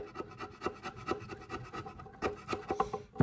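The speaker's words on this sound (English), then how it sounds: "I've probably filed off about an eighth of an inch already on that thing" A file rasps against the wood of a 4 string cigar box guitar in quick, uneven strokes, close and steady with repeated scratchy pulses and no talking.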